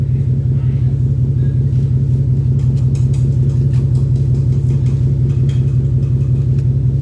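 A Ford Mustang 5.0 V8 with an aftermarket exhaust idles steadily, a deep continuous rumble close by, with faint clicks on top and no talk.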